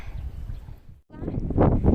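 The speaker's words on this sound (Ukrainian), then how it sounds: "Ох і вітер, Фені прям заносить її, не хоче виходити." Strong gusting wind blows outdoors in a Ukrainian garden with blossoming trees, a steady low roar that drops out briefly and then surges louder, with someone talking over it.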